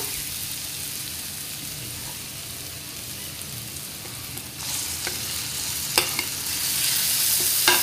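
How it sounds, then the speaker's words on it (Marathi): Tomatoes and onion fry in oil in a pan, giving a steady soft sizzle with a few scraping stirs and clicks, growing louder toward the end. "टोमॅटो तेलात छान परतून घेऊया।"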